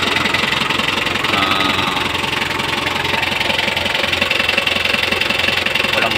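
A 2008 Hyundai Porter with a T4BB diesel engine idling, a steady low knocking rumble with even rhythm throughout, close and fairly loud, with no talking.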